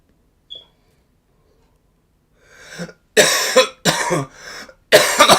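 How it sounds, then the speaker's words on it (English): A person with a bad flu-like cough lets out a string of harsh, loud, close coughs: a brief sound first, then several heavy hacking bursts in quick succession after a near-silent start. "it's the worst cough I've ever had up to yet"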